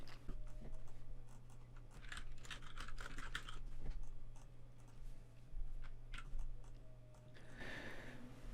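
Fast bursts of computer keyboard typing as a new code file is created, close and crisp, with clustered clatters, short pauses and a few louder keystrokes.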